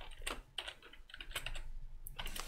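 Keys on a computer keyboard are tapped in short, quiet bursts as a password is entered, a few clustered clicks separated by brief pauses.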